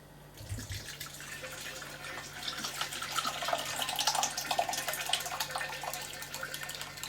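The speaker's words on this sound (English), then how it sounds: "now I'm going to start pouring some of the liquid in" Fruit wine liquid for a homemade summer fruit wine poured through a filter, giving a steady, close splashing trickle that runs continuously and grows slightly louder and fuller toward the end.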